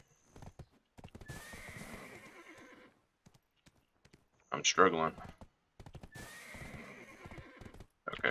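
A horse in the Black Desert Online video game trots with steady clip-clop hoofbeats and gives one loud, sharp neigh midway, while a person speaks briefly over the game sounds.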